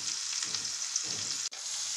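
Mixed vegetables sizzle and fry steadily in a pan, a close, continuous crackle with a momentary dropout near the end and no talking.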